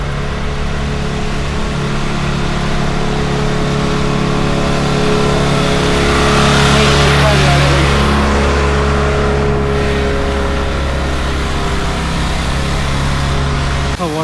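Vehicle engines labour steadily up a steep ghat road near Lonavala, a loud continuous drone with one passing engine swelling and fading midway, no talk heard.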